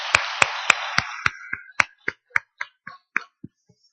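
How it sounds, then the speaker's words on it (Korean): A church congregation at a Sunday worship service applauds: a dense burst of clapping thins quickly into a dozen sharp, separate claps that fade away over a few seconds, with no talking. "우리 모든 영광을 하나님께 우리 한번 영광의 박수 올려드리겠습니다."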